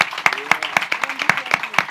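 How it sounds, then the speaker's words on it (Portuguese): Audience applauding for Teresa at a surf-therapy talk event, steady clapping from a crowd with sharp individual claps standing out, fairly close, with some talk mixed in. "Podemos só dar aqui um aplauso muito grande à Teresa"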